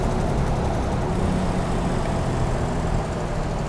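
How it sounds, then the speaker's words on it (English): Cummins-powered truck engine in American Truck Simulator, a dense, steady drone with a low rumble that holds constant and close throughout with no voices over it. "But this truck sounds good. It's a Cummins."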